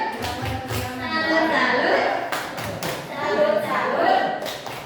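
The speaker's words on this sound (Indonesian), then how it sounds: "Bapak kita tepuk salut dulu untuk Bapak. Tepuk salut." A group in an Indonesian teachers' gathering performs a rhythmic salute clap, sharp patterned claps and thumps in short bursts, mixed with voices and chatter close by.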